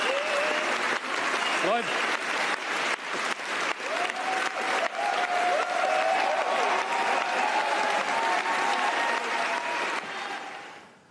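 Sustained crowd applause at an SPD party event in the Willy-Brandt-Haus, steady dense clapping with voices and cheers mixed in, fading out toward the end; a brief spoken word is heard.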